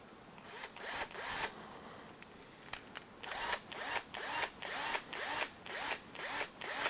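Cordless power drill with a socket spinning a flanged nut onto an HPI Baja 5SC RC truck, a string of short whirring bursts, some longer and some clipped, repeating close up with brief pauses between.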